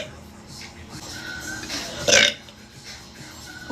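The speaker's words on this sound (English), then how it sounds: "I can burp on command too." A single loud, brief belch done on command rises near the middle of an otherwise quiet indoor stretch, with faint room noise before and after.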